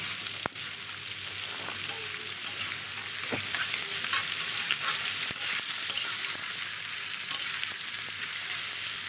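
Chopped onion, capsicum, green chilli and grated ginger fry together in a pan for chilli chicken, a steady close sizzle with occasional stirring clicks and scrapes, no talking.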